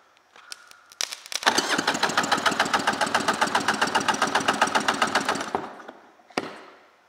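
A 1995 Tigershark Monte Carlo 640cc engine, mag side, is cranked over during a compression test, giving a close, loud, rapid rhythmic chugging that runs for about four seconds before stopping, with a few clicks before and after.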